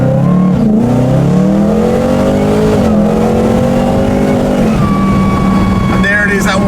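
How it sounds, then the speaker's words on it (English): Supercharged BMW M3 engine easing off throttle, the supercharger pulley whine winding down in a steady falling drone, loud and close under continuous road noise. "And there it is, that winding off. You can hear the pulley going."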